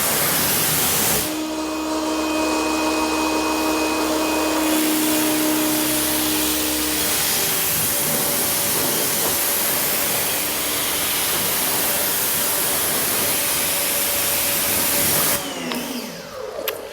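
An EGO battery-powered pressure washer sprays a dirty car, a loud, steady hissing rush of water that begins after a second and runs continuously before cutting off near the end, with a motor whine briefly audible early on.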